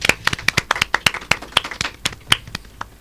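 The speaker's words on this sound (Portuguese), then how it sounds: "Salva de palmas pro nosso episódio." A short burst of hand clapping from a few people at the end of a podcast episode, sharp claps in quick succession, fairly close and loud, with no talking.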